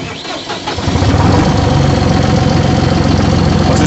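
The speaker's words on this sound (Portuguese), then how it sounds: "Agora eu vou fazer funcionar para vocês" Massey Ferguson 4292 Xtra tractor engine cranks briefly and then fires, settling into a loud, steady diesel idle that runs close up for the rest of the clip.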